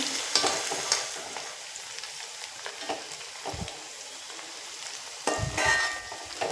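Green chillies fry in hot oil for a lemon pickle, giving a soft, steady sizzle with a few crackling pops and stirring scrapes, quiet and close with no talking.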